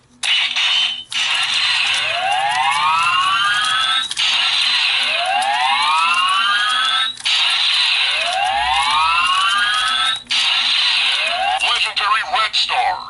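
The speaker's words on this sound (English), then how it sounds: "Next up is the Red Ranger Power Star for RPM." A Power Rangers Ninja Steel Red Ranger RPM Power Star toy plays loud electronic sound effects, with repeated rising swoops in bursts separated by brief pauses, filling the whole stretch.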